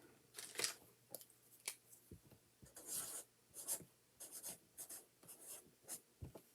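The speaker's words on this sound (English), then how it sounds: "I'm going to write a number on here, and you're going to guess what number." Pen writing a number on a Post-it note, a run of short scratchy strokes in separate bursts, close and quiet, with no talking.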